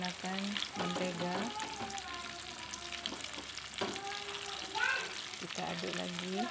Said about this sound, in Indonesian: Ditumis menggunakan mentega.